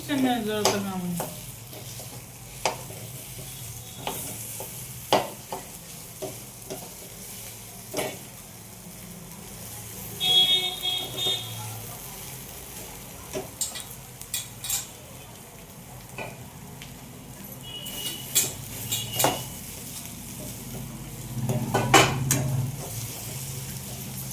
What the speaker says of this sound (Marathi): आता आपण साबुदाणा खिचडी परतवतोय